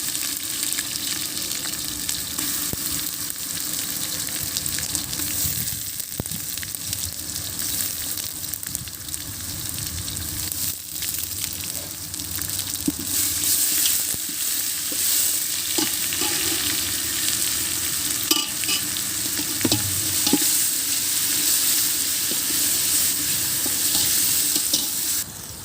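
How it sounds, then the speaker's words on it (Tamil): Ginger garlic paste sizzles steadily in a pan over fried onions for a mushroom biryani, with a continuous hiss and occasional scrapes of stirring, close and alone without talk. "இப்போ வந்துட்டு நம்ம இஞ்சி பூண்டு பேஸ்ட்டு போட்டுடலாம்."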